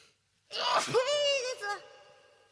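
A single sharp sneeze from a VTuber, a quick intake followed by a bright, voiced burst that trails off into a brief nasal tail, close to the microphone.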